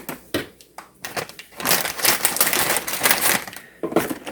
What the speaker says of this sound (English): I'm going to crush up the whole bag so they'll just be ready.